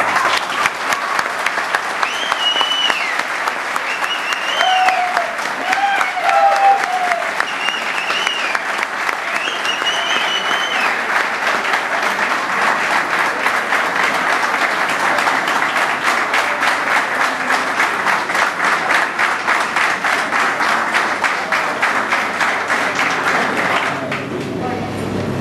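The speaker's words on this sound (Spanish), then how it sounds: "Y este aplauso fuerte es para todos nosotros." Loud, sustained applause fills a hall for a long stretch, a dense, steady roar of clapping with a few voices and whistles rising above it early on before it fades at the end.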